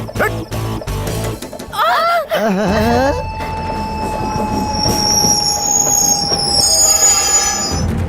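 A train runs on its approach to Nungambakkam station: loud, close rail rumble with sharp, wavering wheel squeals and long high screeches as it brakes.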